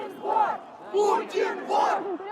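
A crowd of protesters at a street demonstration in Russia chanting in unison, the rhythmic collective shouts rising and falling in repeated phrases close by.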